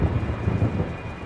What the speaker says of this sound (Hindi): आसमान में ज़बरदस्त एक बिजली कड़कती है